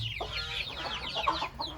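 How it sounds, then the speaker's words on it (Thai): Young chicks cluck and cheep in a quick, busy run of soft calls, fairly close, over a low background hum. "เดี๋ยวให้ช่างกล้องแพน ลูกไก่สีเยียสามตัวให้ดูนะครับ"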